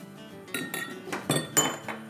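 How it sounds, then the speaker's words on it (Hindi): A metal spoon stirring sambar, a South Indian lentil and vegetable stew with half a lemon added, in a cooking pot: a few distinct clinks and scrapes against the rim, irregular and fairly close, with no talk. "चले हिला लेते हैं"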